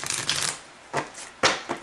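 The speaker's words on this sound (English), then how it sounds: "to get your cards shuffled and laid out" A Morgan Greer tarot deck being shuffled by hand: a riffling rush followed by a couple of sharp card snaps, close up and fairly quiet, with no speech.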